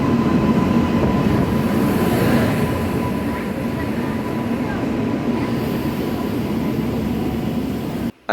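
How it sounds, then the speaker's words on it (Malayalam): A Mangaluru–Chennai Egmore passenger train rolls along, heard from inside a carriage as a loud, continuous low rumble with a faint steady hum. The sound cuts off abruptly at the end. "അങ്ങനെ ട്രെയിനിൽ കയറിയിരിക്കുകയാണ്."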